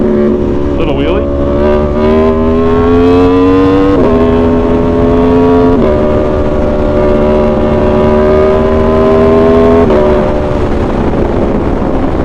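An Aprilia Tuono V4 motorcycle accelerates hard on a dirt-strewn road while lifting into a wheelie, its loud engine whine stepping up through several gear changes, close and continuous, with wind rush behind it.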